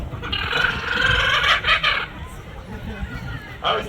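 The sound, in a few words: Australian laughing kookaburra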